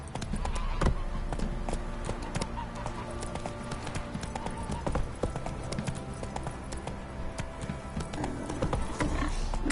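Video game horse galloping, with a fast, continuous run of hoof clip-clops at close range that holds steady and loud throughout, alone without talk.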